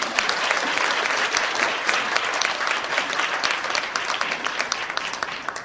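Loud, dense applause from a large audience in a hotel ballroom at a conservative Christian council gathering, welcoming a Catholic representative to the stage. Continuous clapping fills the whole stretch at an even, sustained level.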